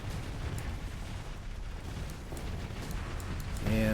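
Spaceship explosions in the Starsector video game rumble as a continuous low, dense roar with scattered bursts, swelling louder at the very end.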